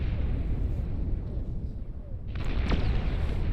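A stockpiled missile launches and strikes deep in an enemy base in the real-time strategy game Beyond All Reason, giving a sustained rumbling boom followed by a sharper burst and crackle near the end.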